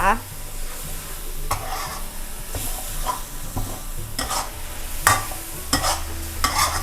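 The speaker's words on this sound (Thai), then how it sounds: "ผัดอีกครั้งหนึ่งค่ะให้เข้ากันให้พริกแล้วก็ใบโหระพาสุกนะคะ" Instant noodles with clams, red chili and basil are stir-fried in a pan, a loud sizzle broken by repeated scraping strokes of the spatula in an irregular rhythm.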